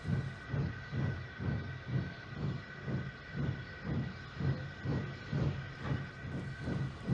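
Steam engine train rolling away, a steady rhythmic chuffing beat repeating about every half second, moderately loud and even, with a low rumble and no voices.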